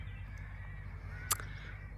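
A crow calls once, a short harsh caw standing out over steady low outdoor rumble, in a place full of daffodils.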